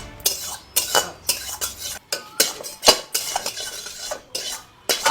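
Metal pots, pans and cutlery clatter loudly while someone cooks in a home kitchen. The bangs and scrapes are sharp and come in irregular bursts, with short pauses between them, and there is no talking.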